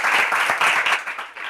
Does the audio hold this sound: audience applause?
yes